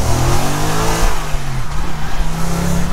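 A tuned Audi S4 with a 4.2 V8 revs hard close by, the engine note climbing and dropping through several loud blips with a deep, raspy growl.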